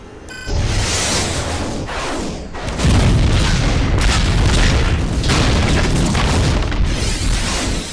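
A huge, rumbling explosion bursts out, followed by a sustained, roaring wall of blasts and whooshing debris that stays loud throughout: the final explosion of a Star Wars: The Clone Wars space battle.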